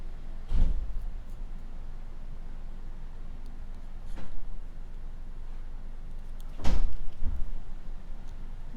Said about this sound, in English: I'm sorry if you can hear the door slamming